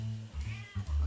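A cat meows in a few short, close, fairly loud calls with brief pauses between them, heard on its own without talk.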